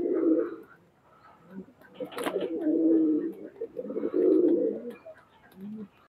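Golden Pakistani highflyer pigeons in a loft in Khulna coo repeatedly at close range, with low throaty calls in several bursts separated by brief pauses.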